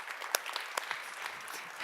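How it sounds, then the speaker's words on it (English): Brief audience applause welcoming a designer onto a stage at a public conversation event, a short patter of scattered claps at moderate distance. "I think we should give her a warm applause and welcome her on stage"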